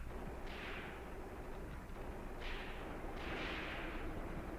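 Distant gunfire and artillery in the WWII tactics game Graviteam Tactics, set at Kharkov in 1941, with a steady low rumble of battle and a few muffled bursts standing out, no talk over it.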